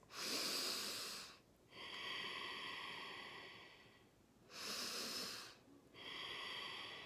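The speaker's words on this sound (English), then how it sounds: "I will take 10 of these deep breaths, and they sound like this." Two cycles of deep diaphragmatic breathing, each a long airy inhale followed by a slower, softer exhale, close to the microphone but quiet overall, with no talking.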